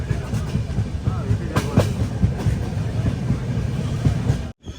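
A weekly express train heading from Bengaluru to Mangaluru rolls into Hassan Junction, giving a loud, continuous rumble with wheel clatter that cuts off abruptly at the end.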